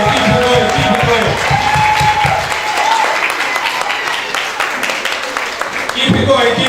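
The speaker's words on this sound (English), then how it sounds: "Clap them up here, man." An audience at a school graduation ceremony claps loudly for the graduates, with dense, sustained applause and crowd noise throughout, while a voice calls out over the clapping.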